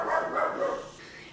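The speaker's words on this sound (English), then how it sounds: "loud weenie dogs" Small dachshunds barking loudly in a quick run of yips and barks that fade slightly toward the end, with no talk over them.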